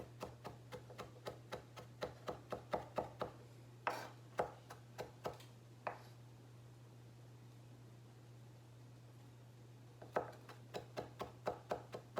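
A knife keeps chopping cilantro for guacamole in close, crisp bursts of quick taps. The chopping pauses for a few seconds of quiet room hum in the middle, then resumes; no one speaks.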